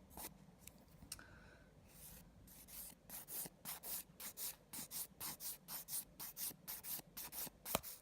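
Gelish Polygel nails being filed by hand, a quiet rapid rasping in short repeated strokes that settles into a steady back-and-forth rhythm, close up and alone.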